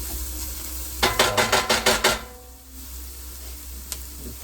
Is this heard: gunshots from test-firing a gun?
no